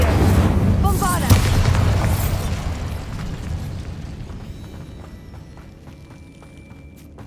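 A Bombarda spell detonates in Hogwarts Legacy: a loud, close blast with a deep, broad rumble that slowly fades and thins out over several seconds.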